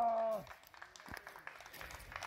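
Faint, scattered clapping for Jänis follows a brief voice, with a few sparse, uneven claps from a small group at a distance.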